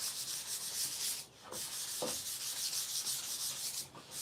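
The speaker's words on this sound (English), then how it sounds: "I don't think I saw any complaints of the noise, sanding being too loud." Wood shelves are sanded close to the microphone with a steady, rhythmic scratchy rubbing, broken by brief pauses and a few light knocks.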